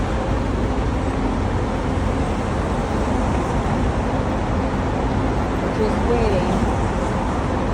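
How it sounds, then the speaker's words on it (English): Busy Thursday morning road traffic near a cruise port forms a continuous, dense roar of passing vehicles that holds at an even level from start to finish, with no clear individual pass-bys. "lot of traffic. It's Thursday morning traffic."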